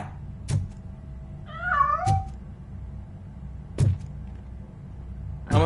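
A cat meows inside the video game RoboCop Rogue City, a couple of short wavering cries in the middle, set among sharp thuds and ambient game noise.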